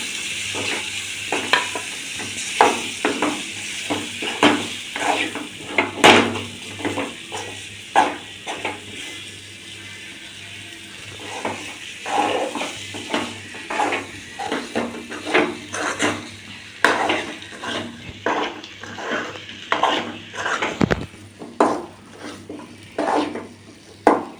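Potatoes stirred in a frying pan with curry leaves, a metal spoon scraping and tapping repeatedly against the pan under a light continuous sizzle, close and fairly loud in irregular bursts.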